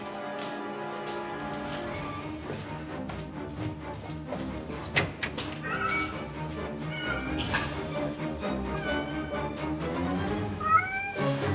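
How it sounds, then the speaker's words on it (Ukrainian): Several cats meowing repeatedly, overlapping high, insistent cries close by, continuing throughout. "Зараз нагодую котиків."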